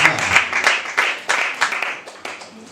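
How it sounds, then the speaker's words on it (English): An audience at a school quiz contest gives a short round of applause, with bursts of clapping that thin out and fade over a few seconds. "A round of applause."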